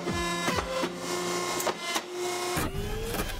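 Loud industrial whirring and humming of a hydraulic paper cutter, punctuated by a few sharp mechanical clunks and a rising hydraulic whine.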